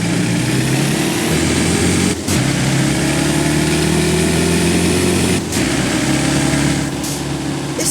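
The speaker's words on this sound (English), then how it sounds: "the Mercedes racing truck and the Unimog, which I'm driving right now, because you know what, this car actually sounds pretty good" A Mercedes-Benz Unimog truck engine in Forza Horizon 5 drones loudly and steadily, a deep lorry-like rumble with a few brief dips as gears shift.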